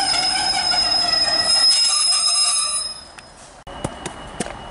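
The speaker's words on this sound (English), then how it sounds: "departing now is the 1648 East Midlands train service to Lincoln Central" An East Midlands passenger train departs Loughborough station, rolling out with loud, sustained wheel squeal and rumble that fades after a few seconds, leaving a few scattered rail clicks and knocks.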